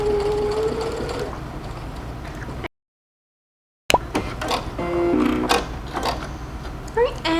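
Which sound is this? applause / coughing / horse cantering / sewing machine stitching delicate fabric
sewing machine stitching delicate fabric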